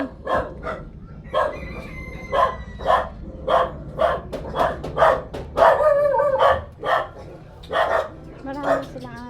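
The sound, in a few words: dogs barking at a house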